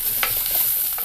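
Green chillies hitting hot oil alongside onion and curry leaves, a brief, close, steady sizzle with a couple of small crackles.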